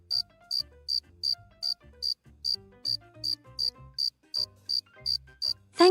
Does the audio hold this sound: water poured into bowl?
no